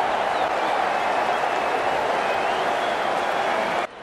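Crowd applause in the cricket video game Ashes Cricket 2019 during a Pakistan v Zimbabwe one-day match, a steady dense wash of clapping and cheering that holds evenly for a few seconds before dropping off abruptly.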